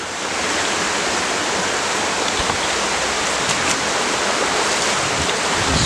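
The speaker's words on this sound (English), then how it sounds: "there's a bit of white water here" White water rushes through the River Ffyddion at Dyserth in a loud, steady, broadband roar that continues unbroken and close by throughout.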